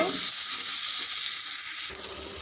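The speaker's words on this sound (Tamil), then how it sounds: "சின்ன தக்காளி ஒன்று சேர்த்திக்கிறேன் சேர்த்து நல்லா ஃப்ரை பண்ணிக்கோங்க" Small tomato frying in a pan gives a steady, close sizzle that continues without pause, and no voices are heard.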